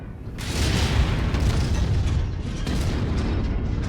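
Missile explosion in the mech combat game MechWarrior: a loud, sustained booming roar with rumbling low end that swells in and holds steady for several seconds.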